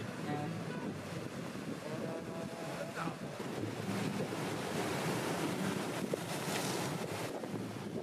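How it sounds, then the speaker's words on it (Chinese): Strong wind and breaking waves at a seaside bay on Yushan Island, Fujian, form a continuous roaring wash with gusty wind buffeting the microphone, loud and unbroken throughout. "今天这么大的风，你在海边站一会儿，脸都是咸的"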